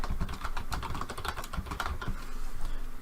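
Fast, steady typing on a computer keyboard, close and clear, a continuous patter of individual key clicks with no talking over it.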